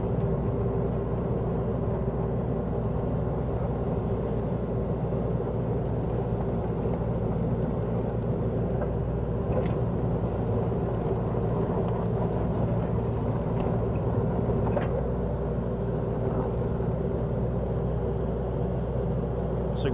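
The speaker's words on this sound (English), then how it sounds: "We'll go ahead and drive this machine for you." A 2011 325 machine driven nearby gives a steady, continuous low engine rumble with constant loudness throughout, plus faint occasional clanks; no talking.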